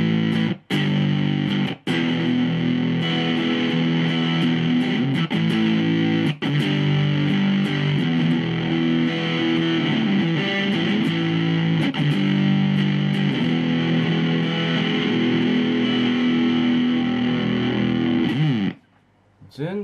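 An electric guitar played through a Plasma Pedal distortion effect gives a thick, buzzing, sustained fuzz-like tone, loud and continuous for nearly the whole stretch with a few brief breaks and a sudden drop near the end.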